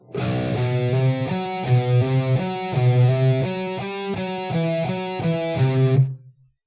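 Heavy distorted electric guitar in B standard tuning chugs through a dark Phrygian-mode metal riff with palm-muted low notes and higher melodic stabs, ending with a ringing decay.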